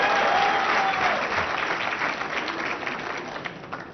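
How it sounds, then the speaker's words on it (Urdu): Studio audience clapping at a talk show, a loud burst of dense applause that gradually thins and fades over a few seconds. "اگر سوال اچھا ہو تو اس کی بھی تالیاں بجایا کریں"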